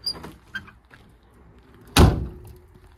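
A VW Baja door closes with a single solid thunk about two seconds in, fairly close and loud, following a few faint clicks and light handling noises.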